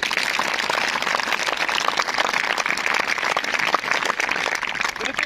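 Loud, dense applause from an audience of children at a magic show, continuous rapid clapping that fills the whole stretch without a break.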